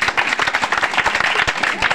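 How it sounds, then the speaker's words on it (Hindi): Audience at a village street magic show claps loudly and continuously, a dense close burst of applause filling the whole moment. "ताली बजा दो यार"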